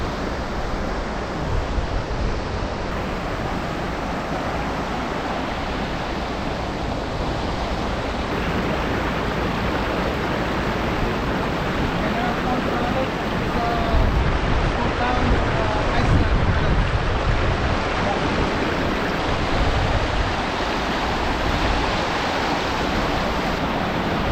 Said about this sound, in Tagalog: Ayun, ang agos ng tubig.